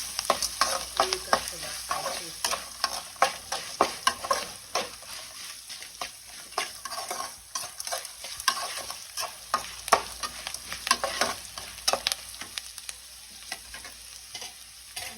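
Washed amaranth leaves (thotakura) fry in a pan seasoned with turmeric, with a soft continuous sizzle and repeated scraping taps from stirring throughout, close and fairly quiet with no talk.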